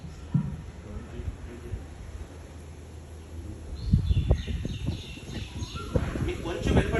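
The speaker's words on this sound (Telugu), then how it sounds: "ఏం వినపడుతుంది? కోయిల." An Asian koel calls faintly outdoors at Jalavayu Vihar amid light rustling background noise, with a few distant bird notes rising over the ambience.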